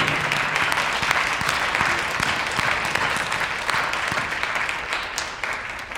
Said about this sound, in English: How about a big round of applause for our Vanna White coach, Freddie.